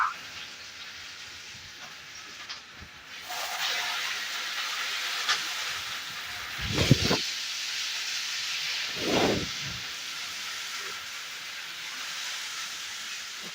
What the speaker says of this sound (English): My oil is ready. I will just add my onion.